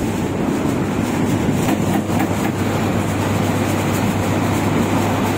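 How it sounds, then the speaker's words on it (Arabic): A central 220V exhaust fan measuring 1x1 m runs with a steady, dense whooshing roar and a low hum, close and constant, with no speech. "كده بدأنا ان احنا نشغل الشفاط"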